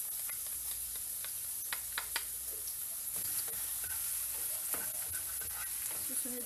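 Garlic sautéing in reused oil left from frying tofu, for stir-fried bean sprouts; a quiet, crackly sizzle with scattered sharp pops and light spatula scrapes, fairly faint throughout.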